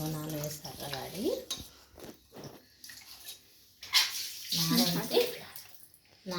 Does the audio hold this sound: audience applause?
no